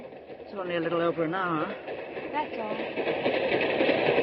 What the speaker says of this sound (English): it's a freight train to boot.